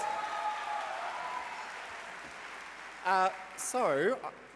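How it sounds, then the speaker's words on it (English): An audience applauds at a music theatre awards ceremony. A dense wash of clapping is loud at first and gradually fades, then a voice speaks briefly over the last of it. "Give him a big round of applause."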